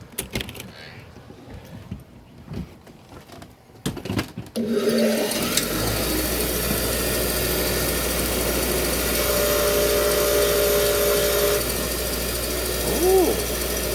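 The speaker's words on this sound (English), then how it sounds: "Wire wheel time." A power wire wheel polishing freshly cast brass ingots spins up after a few scattered clicks and handling sounds, settling into a steady loud whirring hum with faint scratchy contact noise over its run.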